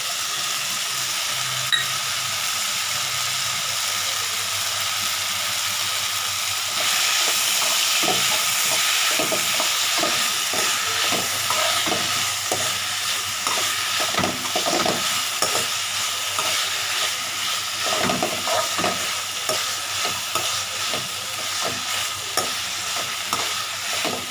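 Curry leaves frying in hot oil for an onion and tomato chutney, a steady close sizzle with a brief louder crackle as they hit the pan, then a series of scraping stirs against the pan under the continuous frying hiss.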